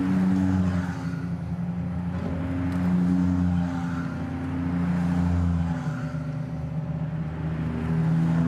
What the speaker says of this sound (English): So the cars making their way back to the pit lane right now